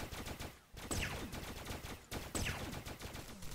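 Rapid bursts of player gunfire in the Starbound video game, two loud rattling volleys with sharp repeated shots and descending whooshing projectile tones, close and dominant.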